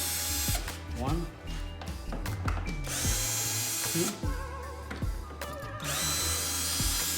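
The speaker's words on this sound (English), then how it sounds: "I'm going to remove those screws using my drill." A cordless power drill whirs in repeated bursts, spinning out panel screws on a John Deere D105 riding mower, loud and close with someone speaking between and over the runs.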